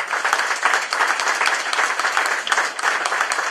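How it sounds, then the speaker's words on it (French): Audience applause at a municipal campaign declaration in Saint-Pierre, steady rhythmic clapping from a sizable crowd throughout, moderately loud. "que je vous demande d'applaudir ici"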